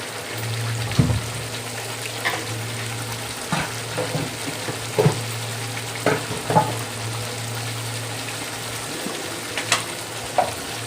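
Pirandai (adamant creeper) paste fries in oil in a pan while pickle thokku is being made: a continuous soft sizzle with intermittent clicks and scrapes from stirring, over a low steady hum.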